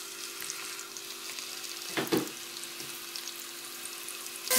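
Onions sizzle in hot ghee with a steady, close crackling hiss, broken by a brief stirring or clattering burst partway through.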